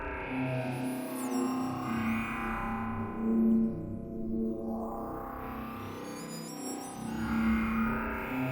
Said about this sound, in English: this is more like a digital distortion